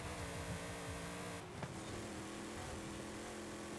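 A race car in Forza Horizon 5, running an engine of about six liters in a 450 hp spec series, drones with a steady, fairly quiet engine tone, and a brief shift or rev change comes midway.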